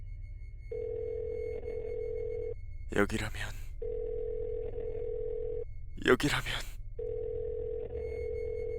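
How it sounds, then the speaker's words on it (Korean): A telephone ringback tone repeats three times in steady bursts, with brief bursts of noise between them and a voice speaking briefly. "블로그에 나와 있는 연락처로 전화를 걸고 있었다"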